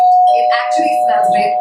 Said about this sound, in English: Oops, I'm sorry, that was my doorbell.